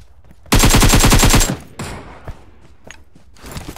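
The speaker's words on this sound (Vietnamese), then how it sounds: "nó bắn ghê lắm" Automatic gunfire rings out in the video game PUBG Mobile as a loud, close, rapid burst of about a second, followed by scattered quieter shots and clicks.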